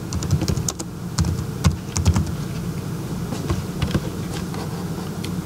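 Rapid, steady typing on a computer keyboard while entering C++ code, with light irregular key clicks and a few sharper taps running continuously, close and alone without speech.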